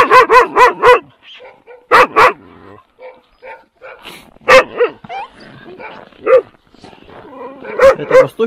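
Close, loud barks from an East Siberian Laika puppy come in quick bursts of three or four, separated by quieter whines and yips, repeating over several seconds, in a village.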